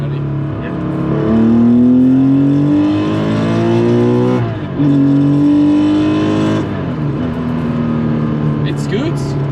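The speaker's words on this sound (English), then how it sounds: "I'm gonna rev out second" A 1200HP Barra-swapped Mustang revs out hard through second gear, its loud engine note climbing steadily, briefly dropping at a shift, then rising again, with people talking over the roar inside the cabin.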